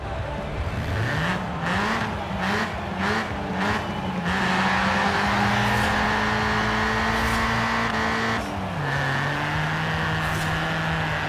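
A Toyota AE86's four-cylinder engine in Forza Horizon 4 revs up through repeated gear shifts, the loud pitch climbing and dropping with each change, with faint tire squeal.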